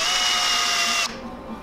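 A power drill whirs steadily at high speed for about a second while carving a fishing swimbait, then cuts off abruptly, leaving a quieter scraping hum.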